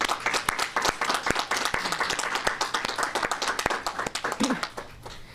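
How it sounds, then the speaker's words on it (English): Audience applause at a school district announcement, many people clapping in a steady patter of sharp claps that gradually thins toward the end, with a faint voice briefly underneath. "I think she deserves another round of applause."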